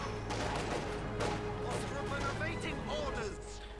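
Gunfire and bombardment in the strategy game Company of Heroes 2, with a Stuka and a Flak Panzer firing, rapid bursts and booms under continuous talk.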